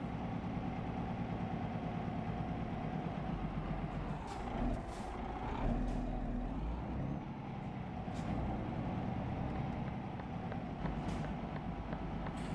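A truck engine in Euro Truck Simulator 2 drones steadily at idle and low cruise, with short hissing air-brake releases and clicks over the low rumble and no talking.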